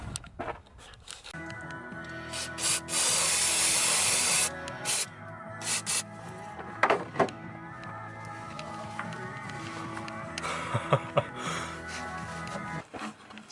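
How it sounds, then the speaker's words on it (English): Aerosol cleaner sprayed in bursts into a Corvette's mass airflow sensor and throttle body: one long hissing blast followed by several shorter spurts, close and loud, amid clinks and handling noises in a garage, no talking. "So I actually ended up spraying out the mass airflow sensor and the throttle body"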